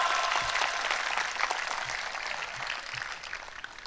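A crowd claps steadily, a dense wash of applause that stays loud throughout and eases off slightly toward the end.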